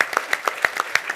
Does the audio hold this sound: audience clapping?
yes